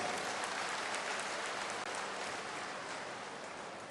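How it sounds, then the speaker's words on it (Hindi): Steady audience applause welcoming ministers at a public ceremony for health centre foundation and oxygen plant in Panna, a dense even wash of clapping that holds throughout and fades slightly toward the end. "जरा ताली बजा के स्वागत करो"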